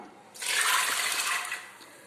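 Water is poured over soaked black chickpeas in a cooking pot, making a close, steady splashing rush that lasts about a second before tapering off, with no talking.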